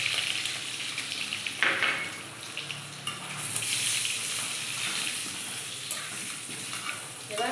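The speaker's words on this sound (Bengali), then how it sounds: "এবার তেল গরম হয়ে গেছে, আমি আলু দিয়ে দেব।" Potatoes dropped into hot oil with a little turmeric in a pan, a crackling sizzle that swells after they go in, with scattered clinks and scrapes over the continuous frying hiss.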